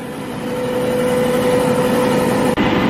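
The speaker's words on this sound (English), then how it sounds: "when the air compressor kicks off, that blower will pick up RPMs" An air compressor and blower run on a John Deere planter with active pneumatic downforce, a steady loud mechanical drone with a fixed whine that holds evenly, briefly cut by a quick dropout near the end.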